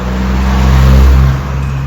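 A city bus in Roskilde, Denmark, draws near along the street, its low engine rumble swelling steadily louder, peaking, then easing slightly as it arrives; no talking.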